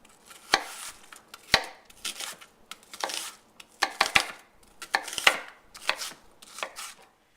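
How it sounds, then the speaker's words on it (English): A knife chops an onion finely on a board in sharp, irregular clusters of crisp strikes, close and clear, with short pauses between bursts. "I want to chop this onion up fairly finely as well"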